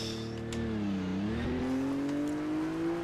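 A BMW M4 in a video game pulls away, its engine note droning steadily and rising in pitch as it accelerates, loud and close, with no talk.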